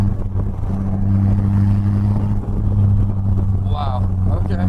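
Polaris Slingshot three-wheeler engine droning steadily while driving, a loud continuous low rumble with wind noise, a voice speaking over it.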